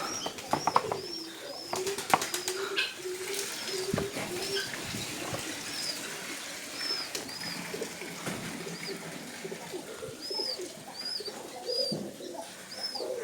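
Pigeons coo repeatedly in soft, rolling phrases, nearby and distinct, with occasional wing flutters and small clicks between calls.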